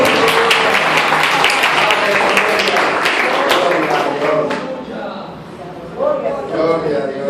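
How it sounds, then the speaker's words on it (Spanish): A church congregation claps loudly and steadily for several seconds, then it thins out as a preacher's voice rises over the fading applause. "Dale un aplauso fuerte a Cristo."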